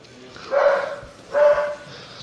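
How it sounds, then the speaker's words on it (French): Two short barks from a dog in a mobile Naruto game, spaced about a second apart, fairly close and moderately loud over a low background hum. "ça c'est mon chien"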